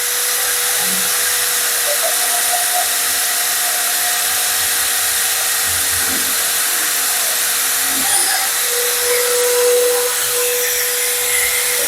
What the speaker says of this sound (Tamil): இப்போ நம்ம வந்து உட்டுக்கு வந்து ட்ரில் பண்ணி இப்போ பார்த்துக்கலாம்.